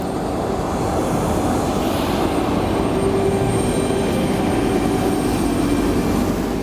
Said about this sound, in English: The CFM 56 and very reliable engines